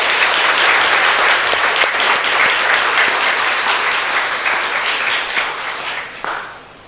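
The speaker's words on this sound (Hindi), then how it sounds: "तो आइए हमारे बड़े फादर को हम तहे दिल से जोर जोर से ताली बजाकर हम धन्यवाद दें।" A church congregation claps warmly to thank the father after a service, steady loud applause filling the room for several seconds before gradually thinning out at the end.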